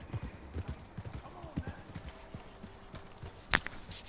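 Horse hooves clip-clop at a steady walking pace in the video game Red Dead Online, with a continuous run of light thuds and one sharper burst near the end.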